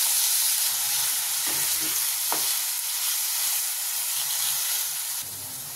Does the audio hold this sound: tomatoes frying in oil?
yes